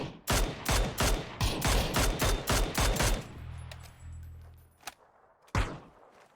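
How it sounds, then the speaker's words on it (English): Gunfire in the PUBG video game: a rapid run of loud, evenly spaced automatic shots close by, followed by a pause and a few separate single shots. "Great shots as well from Ice Boy."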